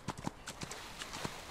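Horse hooves in Outlaws of the Old West clip-clopping in an irregular run of soft, close footfalls, faint and alone over a short stretch.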